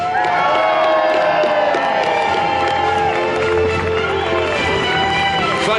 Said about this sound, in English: Let's hear a huge cheer for our Trebuchet Master Richard and the crew!